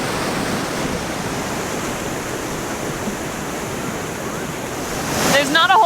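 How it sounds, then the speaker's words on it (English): Waterfall on the Isle of Skye, Scotland, pouring down a hillside in a powerful flood, a dense, steady roar of rushing water with wind buffeting the microphone near the end. "this waterfall because it's saying it all in the power that is just flooding down this hill"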